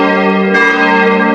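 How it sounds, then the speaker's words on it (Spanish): A church bell tolls with a rich, sustained ring. A fresh loud strike lands midway and swells over the decaying hum. "de pronto, las campanas de la iglesia comenzaron a sonar"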